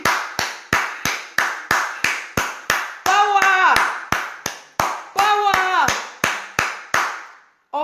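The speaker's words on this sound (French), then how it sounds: "On applaudit." A group claps hands together in slow, unison beats, about two per second, near and crisp, with a voice briefly calling out over the rhythm twice, then the clapping stops.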